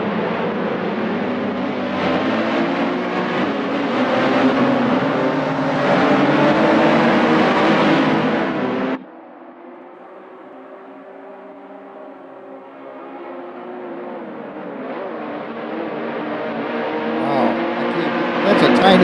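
Tiny car engine in a video game revving and droning loudly for several seconds, then dropping abruptly to a quieter, lower engine hum that slowly builds again toward the end.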